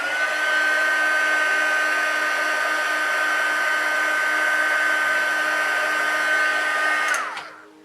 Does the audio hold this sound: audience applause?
no